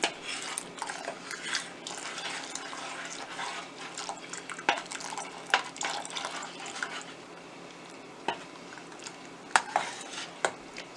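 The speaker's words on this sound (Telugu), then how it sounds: "ముందుగా కలిపి పెట్టుకున్న ఈ కస్టర్డ్ని ఒకసారి కలిపేసుకొని కొంచెం కొంచెం కలుపుతూ పోసుకోవాలి." Custard mixture for fruit custard being poured little by little into a pot on a low flame and stirred, with steady scraping, dripping and light clinks of a utensil against the pot, close and alone without talk.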